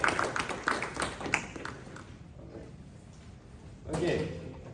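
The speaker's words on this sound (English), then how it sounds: "please a round of applause for Dr." An audience at a hands-on drone-building workshop claps for Dr. Nirmala, a brisk burst of applause in the first second and a half that fades into quieter room noise, with speech around it.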